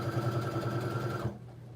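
Sewing machine stitching a reversible tote bag, a fast rhythmic whirring chatter of the needle running steadily for about a second before stopping.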